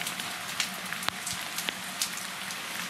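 Steady patter of rain falling on a surface, with scattered sharper drops standing out against a soft continuous hiss.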